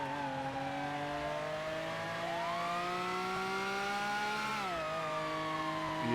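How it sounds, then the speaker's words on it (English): Motorcycle engine in a roleplay video game, a loud steady drone that rises slowly in pitch, then drops as the revs fall, continuous and close with no talking. "Listen to the sound of this engine."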